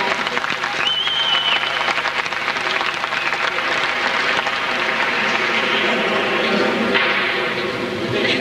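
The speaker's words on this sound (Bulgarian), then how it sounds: "Аплодисменти за Кирил Бонев." Crowd at a 1994 Italy–Bulgaria full-contact fight event applauds as fighter Kiril Bonev is introduced, a loud, continuous wash of clapping in a large hall with faint crowd noise.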